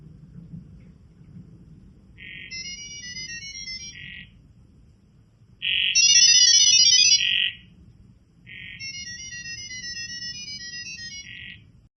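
Two AI voice assistants trade Gibberlink mode data signals: three bursts of rapid, bright, warbling electronic tones, each a second or two long, with the middle burst louder, over a low background hum and no talk.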